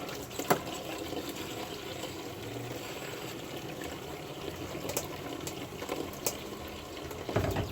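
Water runs steadily from a kitchen tap while spoons and other utensils are washed, with soft clinks of metal and brief splashes near the sink, continuous throughout.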